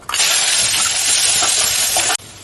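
Cloves and chopped onions dropped into two tablespoons of hot ginger oil in a pan, giving a loud, sudden, continuous sizzle up close that cuts off abruptly near the end.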